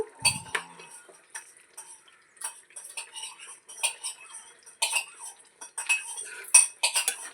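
Metal spoon scraping and clinking in a pan while eggplant (brinjal) pieces are stirred into curry gravy, with irregular taps and scrapes spread throughout, close and fairly quiet with no talking.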